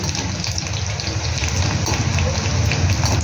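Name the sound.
shankarpali dough frying in hot oil, spattering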